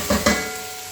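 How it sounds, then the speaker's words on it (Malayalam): Curry leaves, ginger and green chilli dropped into hot oil in a pan, giving two quick loud sizzling bursts that settle into a steady fading hiss, with no talk. "കറിവേപ്പില ഇട്ട് കൊടുത്ത്, ജിഞ്ചർ, പച്ചമുളകും ഇഞ്ചി കൂടെ അരിഞ്ഞ് ഇട്ട് കൊടുത്ത്"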